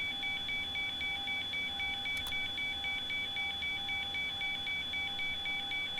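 A warning alarm sounds in the cockpit of a Zibo Mod Boeing 737-800 in the X-Plane 11 flight simulator, a steady continuous electronic tone with a fast pulsing beep pattern that runs throughout at moderate level, with no voices.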